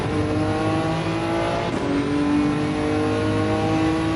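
The engine of a 1999 Nissan GTR race car in Gran Turismo 7 roars loud and close, holding a strained high rev with a brief dip and a shift partway through, then pulling hard again.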